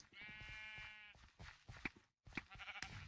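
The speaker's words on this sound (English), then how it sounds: "We've got one sheep, get him!" Sheep bleating in the Minecraft video game, a long wavering bleat at the start, then followed by busy game noises and short hits.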